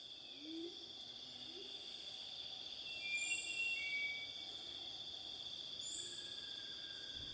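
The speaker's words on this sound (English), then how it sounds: "The birds you are hearing now are just a few of among roughly 40 different species of the diverse array of New Guinea's enigmatic, remarkable birds of paradise" Birds of paradise call in a New Guinea rainforest, giving a few faint, distant whistles and hoots over a constant high insect drone and soft forest hiss.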